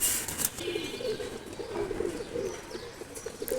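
Soft, repeated pigeon coos murmur throughout, steady and fairly close, with a few faint chirps and light rustling in the background.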